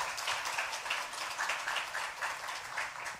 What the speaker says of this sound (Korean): 자, 박수로 격려하겠습니다.